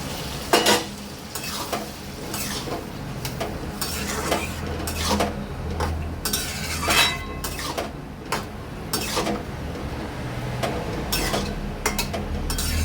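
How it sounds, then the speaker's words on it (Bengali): Boiled chana dal (split chickpeas), for a dal made with ridge gourd, is tipped into hot oil in a pan and stirred: repeated close scraping strokes of a spoon against the pan over a steady sizzle, with no talk. "এবার এই মুহূর্তে আমি ছোলার ডালটা যেটা সিদ্ধ করে রেখেছিলাম এই যে দিয়ে দিলাম"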